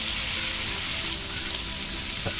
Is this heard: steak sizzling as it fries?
yes